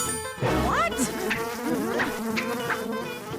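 An insect buzz like a wasp, loud and close, with wavering whines and swooping pitch bends over a busy layered background, no voices.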